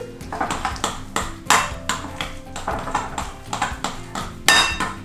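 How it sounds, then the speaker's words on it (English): Vegan cookie dough being stirred in a bowl, with a close, repeated clatter and knock of utensil against the bowl in an uneven rhythm. "Now we'll mix it all up again."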